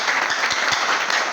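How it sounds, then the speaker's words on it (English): Brief, fairly soft clapping from students during an online lesson, a quick patter of hands with no talking over it. "Clap for him."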